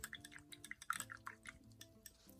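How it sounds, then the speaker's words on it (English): A paintbrush swished and rinsed in a water cup between colors, with faint drips, splashes and light clinks of the brush against the container, close and quiet, no talk. "So I'm gonna clean my brush"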